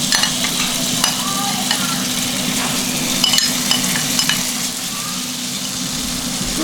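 Food sizzles steadily in a pan lined with a dab of olive oil, a continuous close frying hiss with light stirring scrapes over a low background hum, heating up for Indian street-style aloo tikki.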